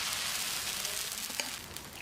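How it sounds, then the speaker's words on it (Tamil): Dosa batter made from ration shop rice hits a hot pan and sizzles in a steady, close crackle, with a few faint ladle taps near the end and no talk. "வழக்கம் போல தான் 1/4 கரண்டி மாவு ஊற்றி ரொம்ப லேசாக தேய்க்க வேண்டாம்."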